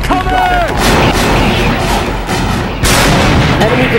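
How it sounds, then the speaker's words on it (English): Artillery and BM-21 rocket fire in a 2003 battle at An Nasiriyah, heavy booms and crackling blasts rolling continuously and loudly, with a sharp burst near the end and faint voices underneath. "That's a rocket attack,"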